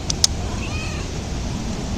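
A cat meows faintly once amid steady background noise, with a couple of short sharp clicks near the start.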